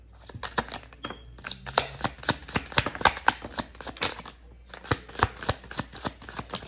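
Tarot cards being shuffled by hand, a steady run of crisp riffling snaps and soft slaps repeating close up for several seconds with short pauses, no talking.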